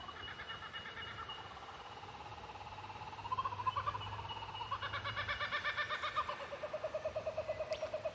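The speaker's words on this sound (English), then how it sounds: "Hearing Kookaburra if he's coming through." Kookaburra calling outdoors, a rising, rhythmic laughing chorus that builds in the second half and becomes a steady pulsing cackle, moderately loud over a quiet natural background.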